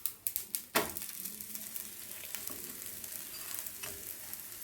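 Masala roti made with soya beans, oats and fenugreek leaves fries in a little oil, opening with a few sharp taps and then settling into a continuous soft sizzle with faint crackles, no talking.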